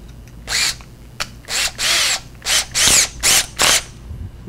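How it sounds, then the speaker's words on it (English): A power drill bores quarter-inch holes for tuning keys in a homemade three-string panjo, sounding as about eight close, loud whirring bursts separated by short pauses. "go ahead and drill the quarter inch holes where the tuning keys are gonna go in"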